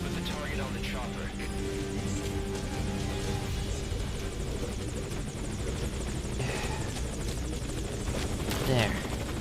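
A helicopter waits at a landing zone in Metal Gear Solid V: Ground Zeroes, its steady rotor and engine roar filling the scene throughout, with gunfire bursts and radio voices talking over it.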